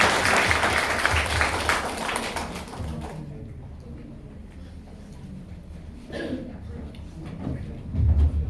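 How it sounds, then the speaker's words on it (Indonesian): An audience at a church camp meeting claps loudly for a guest, the dense applause fading after a few seconds into quieter room noise, with a few scattered claps and shuffles afterward. "So can you help me give a big clap to Aaron?"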